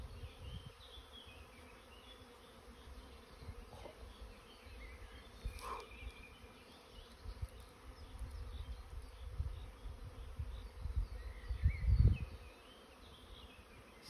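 A honeybee swarm buzzes in a garden with a dense, continuous drone of many insects. Individual bees pass close now and then, and a few soft thumps and handling noises rise near the end.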